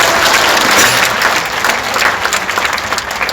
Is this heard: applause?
yes